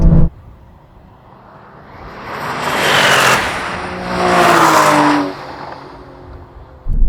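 An Aston Martin V12 car launches in a drag race, wheels spinning up at the start. The engine roars loudly in two rising surges, then falls away, with no talking.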